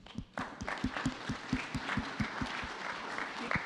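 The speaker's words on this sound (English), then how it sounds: "You can't applaud the candidates," An audience at a Culpeper Chamber of Commerce candidate forum claps, a fairly quiet, thin run of distinct hand claps that soon falls into a loose, regular rhythm.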